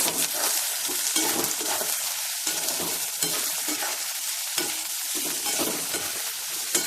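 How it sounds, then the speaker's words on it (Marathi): Chopped onion sizzles and crackles in a pan of oil with browned garlic, frying steadily with repeated stirring scrapes throughout, no voices. "तर आपण आपण यामध्ये कांदा घालून घेऊया आपण कांदा छान परतून घेऊया"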